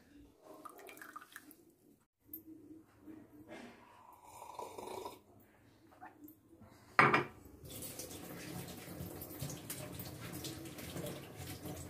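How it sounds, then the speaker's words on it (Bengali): Vegetables being washed in water in a home kitchen, with a sharp clank near the middle followed by steady splashing, rinsing and clattering of pots and dishes close by. "সব সবজি ধোয়া হয়ে গেছে ফ্রেন্ডস"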